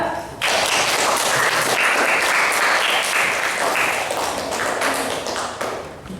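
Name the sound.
class applause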